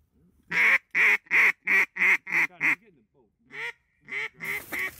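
A rapid run of loud, nasal quacks in a steady rhythm, then a few more after a short pause, close by and clear, during a duck hunt on big open water.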